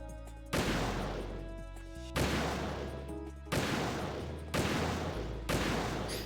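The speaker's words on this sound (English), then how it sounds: "and then I can shoot them" Gunfire in Metal Gear Solid 2 comes as five loud, booming bursts spaced about a second apart. Each blast rolls into a rough, rumbling decay before the next.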